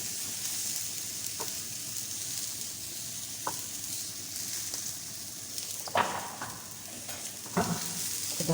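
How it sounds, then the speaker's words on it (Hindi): Fresh green peas frying in oil, making a constant dense sizzle with occasional sharper pops and spatters. "बस इसको थोड़ा सा फ्राई कर लेंगे।"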